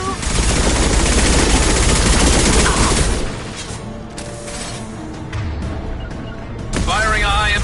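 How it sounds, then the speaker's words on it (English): A rapid, loud burst of automatic gunfire from a high-impact shot in Mass Effect, a sustained crackling fusillade for about three seconds that breaks off into quieter game sounds and a brief spoken line, then resumes. "Firing a high-impact shot."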